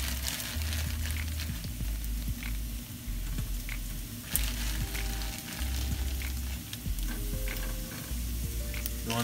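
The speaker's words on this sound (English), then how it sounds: "So what I'm gonna do is crisp up the tofu." Tofu crisps in a pan over low-medium heat, a steady, close sizzle and crackle of frying oil with occasional stirring and scraping sounds, no talking.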